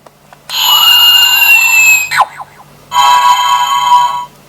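Two bursts of bright electronic toy tones from a DX Gochipod Kamen Rider Gavv toy as a Gochizo is inserted: the first with a rising whine and a quick chirpy flourish, then a shorter steady beeping chord, loud and close.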